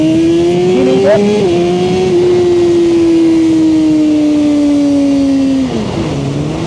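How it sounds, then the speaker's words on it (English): A Suzuki GSX-R1000R motorcycle holds on its launch control rev limiter, a loud, close, sustained high engine drone with a slight pitch drift, dipping briefly near the end. "launch control is definitely way more effective hitting the rev limiter the way I did"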